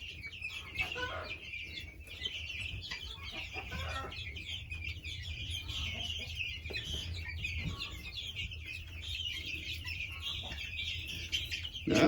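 Guinea fowl feeding on mealworms keep up busy, overlapping chattering calls nearby, with scattered bursts and clucks over a low background rumble and occasional faint talk.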